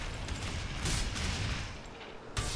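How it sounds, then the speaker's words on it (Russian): Rapid bursts of elven gunfire crackle in a dense, continuous volley in the game Valheim, with a louder flurry near the end. "Эльфийская стрельба."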